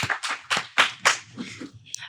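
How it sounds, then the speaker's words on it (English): A short burst of handclapping from a podcast studio audience cheering a volunteer, five or six distinct sharp claps in a quick rhythm that trail off into softer patter, close and fairly loud. "Give her a round of applause for being brave enough"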